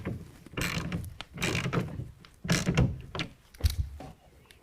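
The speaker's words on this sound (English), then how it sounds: "Take your wrench or ratchet, 9/16, get it to where it's just starting to bite down." A 9/16 ratchet tightens a clamp on an Extang Xceed tonneau cover fitted to a 2017 Ford F-150, giving several bursts of close, clicking mechanical ratcheting with short pauses between them.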